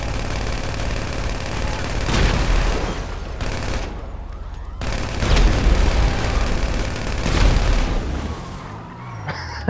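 Heavy gunfire in a GTA Online street shootout, with loud bursts and booming shots that swell and fade several times over a constant rumbling background, and no talk.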